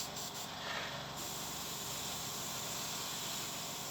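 A spray can laying a light mist of black backing paint, a steady close hiss of compressed aerosol running for a few seconds without pause.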